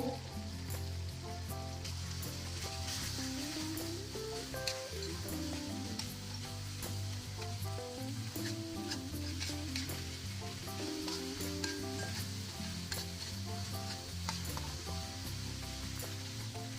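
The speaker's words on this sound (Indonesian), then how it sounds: "Kita aduk-aduk." Spicy sweet seasoning for chicken feet sizzles in a pan while being stirred, a continuous crackling fry with regular scraping strokes and small clinks, steady and close.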